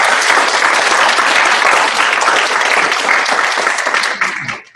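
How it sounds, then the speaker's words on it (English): Loud, steady applause from a large audience at a student board of directors candidate debate fills the clip, holding strong before tapering off at the very end. "let's give them a round of applause"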